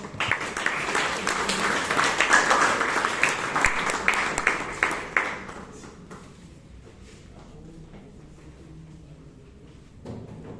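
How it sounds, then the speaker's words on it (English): Audience at a Toastmasters club meeting in Bangalore claps loudly in a dense, steady burst for about five seconds, then the applause cuts off abruptly, leaving a quiet room with faint scattered sounds and a brief rustle near the end. "Can you have another round of applause?"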